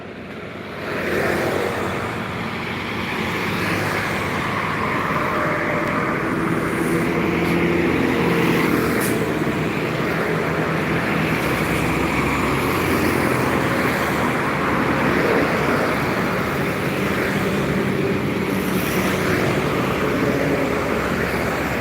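Buses and trucks roll past on a highway near Palembang, making a steady, loud rumble of road traffic that swells and fades over a continuous engine drone, with no voices.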